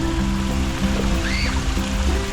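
Water flows steadily through channels around a pool at a private resort beside a geothermal power plant, a constant close rush with faint tones and a brief whistle over it.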